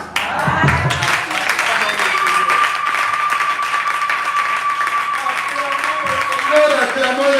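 A church congregation at a fasting and prayer service bursts into sustained, loud applause that lasts the whole stretch, mixed with crowd voices and singing-like tones from worshippers.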